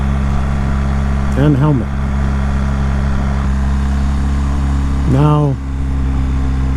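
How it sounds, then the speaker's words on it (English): A BMW 1300GS motorcycle engine hums steadily in first gear at about 4,000 RPM and 40 km/h, a constant close drone running beneath two brief stretches of someone talking. "almost 4 grand, 40 kilometers per hour in first gear. That increases the engine noise."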